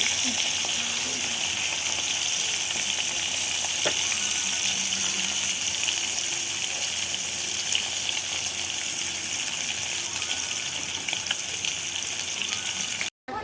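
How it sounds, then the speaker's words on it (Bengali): Hilsa fish pieces fry in a pan, a loud, even, close-up sizzle holding steady for the whole stretch before cutting off sharply at the end, with no voices. "চলো মাছটা ভাজা হয়ে যাক।"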